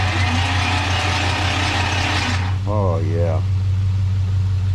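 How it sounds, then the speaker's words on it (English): A third-generation Camaro engine, sitting unstarted for ten years, cranks with a steady rhythmic ratcheting whir, then stops; a voice speaks briefly near the end over a low hum. "Crank on it for a little bit."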